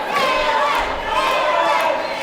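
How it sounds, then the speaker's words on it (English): A packed wrestling crowd at a 2015 Global Championship Wrestling event cheers and shouts steadily, a dense wall of voices filling the arena throughout. "And this crowd is solidly behind Cook."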